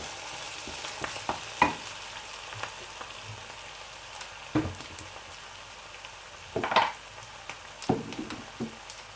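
Bulgur is roasting in a pan on a stove that has just been switched off, giving a faint, steady crackle with scattered scraping stirs and louder bursts of stirring, with no one talking.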